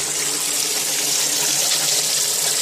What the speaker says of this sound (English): you're just stirring up the water. You're circling and cycling the water through.